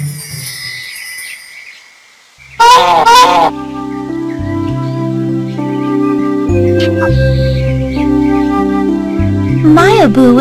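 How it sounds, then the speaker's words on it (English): A goose honking in the Disney Princess Enchanted Journey video game, a few loud nasal honks over bright game music, with a short honk again near the end. "actually a goose."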